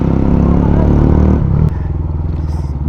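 A Hero Xtreme 125R motorcycle fitted with a full-system Akrapovic exhaust idles loudly with a deep, throbbing burble, gives a brief rev, then drops back to a lower, pulsing idle close by.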